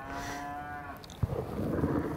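Penned cattle give a long, low, harmonic moo lasting about a second, fairly close, followed by a thump and general rustling in the pens.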